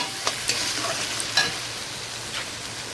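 Spice paste cooked down in oil until the oil separates, with chui (piper chaba) added, stirred in a pan as a steady soft sizzle with a few brief scraping clicks of a spoon, close and alone.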